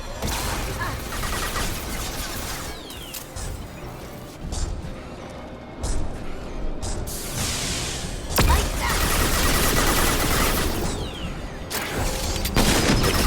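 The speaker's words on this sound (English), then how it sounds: "Shoot me from here? I don't think these bullets can even hit me." Gunfire in the video game Mass Effect 2: sustained bursts of rapid shots and crashing impacts for over thirteen seconds, loud and close, with short gaps between volleys and a heavier stretch near the end.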